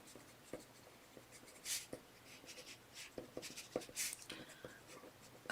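A pen scratches measurements into the inside cover of a book, quiet close-up strokes and scribbles in short uneven bursts.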